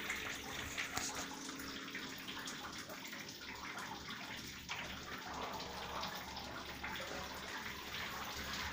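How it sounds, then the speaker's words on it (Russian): Water pouring steadily from a newly installed rain shower head onto a bathroom floor after the mixer is switched over to the overhead shower, a dense continuous hiss and splatter without pause. "тропический душ, практически сразу"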